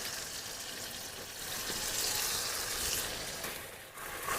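Ginger-garlic paste frying in a pan for an egg and soybean curry, giving a steady broadband sizzle with some watery bubbling that swells slightly midway, close and continuous with no talking.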